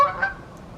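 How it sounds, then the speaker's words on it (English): A goose honks once, high and fairly distinct over a soft outdoor background on a calm evening in Indianapolis. "Do you hear the geese?"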